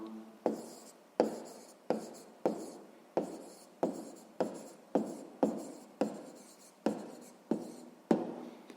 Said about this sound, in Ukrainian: Ну що ж, записуємо тоді відповідь.